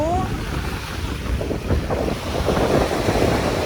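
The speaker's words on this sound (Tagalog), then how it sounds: "ang lakas ang hangin pala dito" Strong wind blows across the Manila Bay shore, gusting roughly against the microphone over a rushing surf background, loud and close, with a brief tonal sound at the very start.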